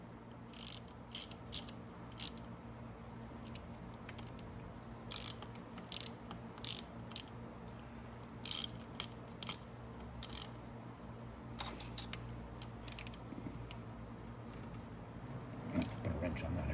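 Ratchet wrench tightening the intake on a Venom X22r 250cc, a string of quick sharp clicking bursts over a low steady hum, near and moderately loud, with a voice speaking softly underneath.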